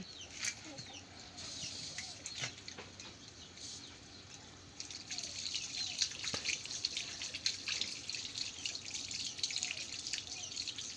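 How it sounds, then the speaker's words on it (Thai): Hands are washed under a running tap, water splashing and dripping steadily at moderate, close range, growing slightly fuller midway, with no talking. "วันนี้จะมาล้างมือครับ"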